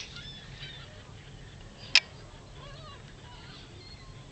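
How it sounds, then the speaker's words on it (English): Swans honking faintly in the distance, a few thin calls drifting over steady outdoor background noise, broken once by a single sharp click. "Oh God, the swans are coming."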